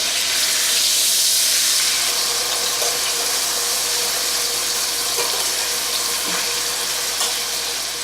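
Meat for Swiss steak sears in a hot frying pan, giving a steady, loud sizzle and hiss throughout with no talking.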